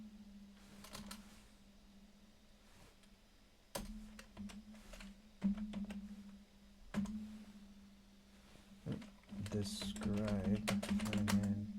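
Keys clatter on a computer keyboard in short bursts and isolated taps, with a steady low hum underneath and a person talking toward the end.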